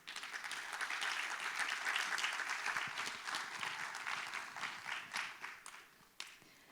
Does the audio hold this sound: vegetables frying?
no